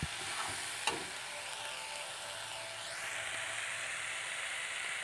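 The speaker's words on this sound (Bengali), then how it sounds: "নেড়ে চেড়ে দেবো কিছুক্ষণ পর পর" Taro stems cook in a pan with a steady, even sizzle close by, and one brief scrape of stirring comes early before the frying hiss carries on alone.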